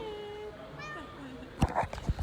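A stray cat on a college campus in Barranquilla meows in several rising, drawn-out calls, close and clear, followed by people talking.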